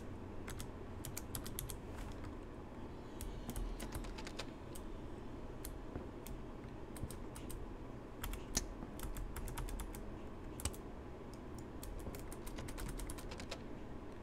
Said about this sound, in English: Literally going across the keyboard, just pressing every key.